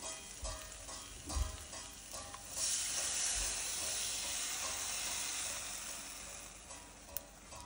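Soaked tamarind water poured into a pan of fried spice powders for a taro pulusu bursts into a loud hiss, then settles into a steady sizzle as a spoon stirs the pan.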